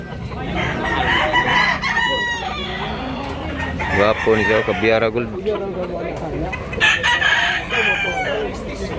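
Roosters crow repeatedly at a busy rooster market in Tabunok, Cebu, loud and close, with clucking fowl around and someone talking over them.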